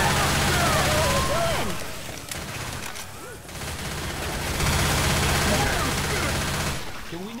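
Rapid automatic gunfire and shooting bursts from the zombie shooter game Left 4 Dead 2, dense and loud throughout with a brief dip midway, under excited player voices.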